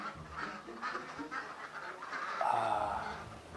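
Ducks quack noisily in a pen, a jumble of overlapping moderately distant calls with one louder nasal quack standing out near the end.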